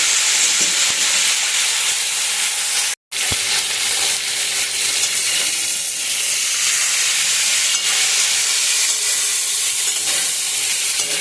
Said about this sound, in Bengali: ভালো করে বেগুন আর আলুটা ভেজে নেব